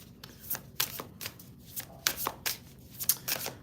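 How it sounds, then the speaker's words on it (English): A deck of cards being shuffled close up, a run of quick papery riffles and soft slaps in uneven bursts, quiet and without talk. "Get one more shuffle, okay?"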